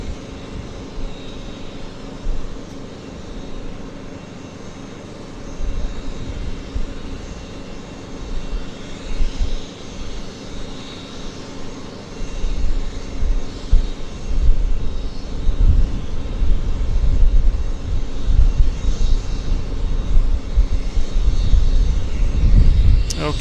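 An airplane at Vancouver Airport, out of sight behind a tree, sends a low, distant engine rumble that gradually swells louder toward the end, with faint background noise and no talk.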